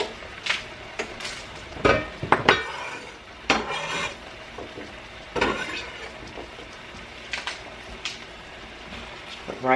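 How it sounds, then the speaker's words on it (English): Chopped onions are tossed into a cooking pot, with clattering knocks, scrapes and utensil taps against the pot in irregular bursts over a faint sizzle, close and fairly loud. "I'm going to go ahead and throw my onions in."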